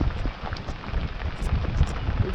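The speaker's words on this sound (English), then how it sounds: "Looks like the dark cloud is passing over me. Lots of rain." Rain from a passing squall under a dark cloud, falling steadily on a solo sailboat with its headsail down, a dense close patter broken by occasional louder drops and light wind.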